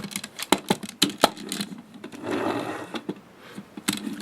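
A Predator monster truck toy's small electric motor runs in brief buzzing bursts with clicks between, close and moderately loud, pausing then whirring steadily for a stretch before more short clicks.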